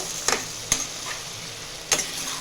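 Halved bilimbi sauté in hot oil in a pan with a soft, even sizzle. A spatula stirs the fruit three times with quick scraping strokes, and no one speaks.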